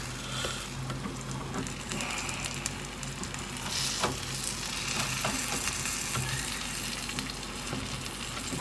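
Chicken pieces with skin sizzle and fry steadily in a pan, a dense continuous crackle with occasional louder pops, close and alone.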